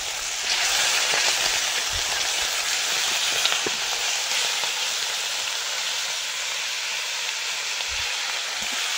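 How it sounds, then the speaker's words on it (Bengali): Fish heads fry in hot oil with a loud, dense, continuous hiss and sizzle that stays steady throughout, with a few low bumps and no talking. "মাছের মাথাগুলো ভেজে নেব।"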